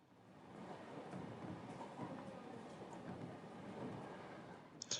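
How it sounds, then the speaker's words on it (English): A train pulling into its final stop, a steady broad rumble of the carriages rolling along the rails that holds even throughout, ending with a brief sharper clatter. "It seemed the train had reached its final stop."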